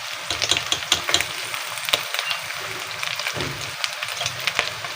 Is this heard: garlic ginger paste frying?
yes